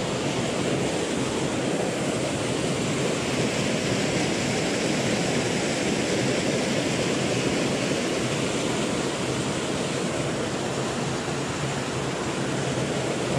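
Steady rushing water of a swollen stream beneath a waterfall in Tahoe National Forest, a constant dense wash with no voices, moderately loud and unbroken.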